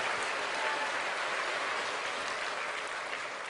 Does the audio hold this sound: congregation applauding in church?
yes